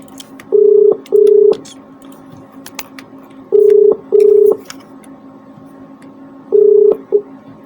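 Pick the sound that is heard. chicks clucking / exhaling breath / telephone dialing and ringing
telephone dialing and ringing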